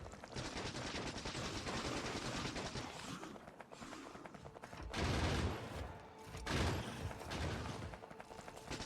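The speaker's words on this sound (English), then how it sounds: "You've always been able to use turrets offensively in Factorio" Turrets in the video game Factorio fire in dense, continuous rapid volleys, with heavier surges of automatic gunfire partway through, sustained and fairly loud throughout.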